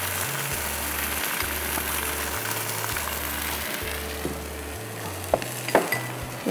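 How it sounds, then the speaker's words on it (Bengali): Ginger and garlic paste sizzling in a hot pan, a steady close frying hiss with a low hum beneath and a few sharp utensil clinks near the end, no talk. "একটু আদা রসুন বাটা দিচ্ছি। রসুন বাটা দিচ্ছি 2 চা চামচ।"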